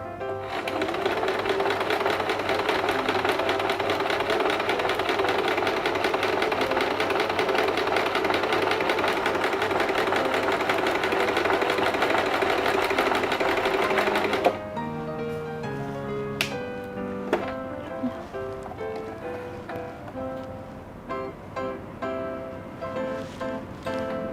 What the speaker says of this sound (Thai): เดี๋ยวเรามาลองเย็บแนวนี้กันบ้างเนาะ